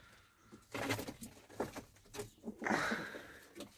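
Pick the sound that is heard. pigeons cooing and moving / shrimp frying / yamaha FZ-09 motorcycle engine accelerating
pigeons cooing and moving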